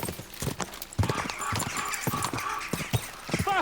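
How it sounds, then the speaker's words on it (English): Horses galloping in Kingdom Come: Deliverance 2, with rapid, irregular hoofbeats thudding up close throughout the race, loud and steady with no talk over them. "Let's really spur these horses on, eh?"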